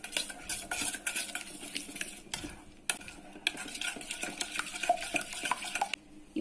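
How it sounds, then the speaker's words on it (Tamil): Fennel powder, turmeric and salt being stirred into a spice marinade for chicken, with a spoon scraping and clinking against a bowl in quick, uneven strokes, close and fairly quiet. "இப்போ எல்லாம் சேர்த்துட்டு இத நல்லா mix பண்ணிக்கலாம்"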